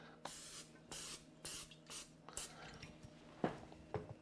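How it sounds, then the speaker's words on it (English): Several short hissing bursts of non-stick aerosol spray onto a baking dish, close and fairly soft, evenly spaced at first and then a couple of light clunks. "we're going to go ahead and spray that with non-stick spray."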